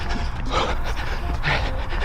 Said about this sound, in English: So you can obviously hear that I'm breathing pretty hard at this point